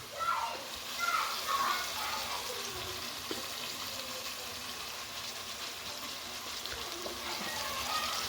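Chicken browning in a pan for village-style chicken biryani, a steady broadband sizzle running throughout at moderate level, with brief faint voice-like sounds near the start.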